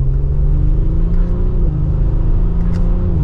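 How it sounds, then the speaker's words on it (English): A 2024 Audi SQ5 Prestige engine drones loudly with a deep, steady exhaust rumble, the pitch dipping slightly midway as it idles along. "hopefully you can hear that exhaust"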